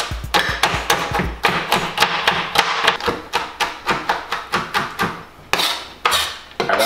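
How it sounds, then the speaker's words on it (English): A knife chops a block of chocolate on a cutting board, a steady run of sharp, close knocks repeated about two to three times per second, loud and with no voices. "Now we're gonna chop up the chocolate."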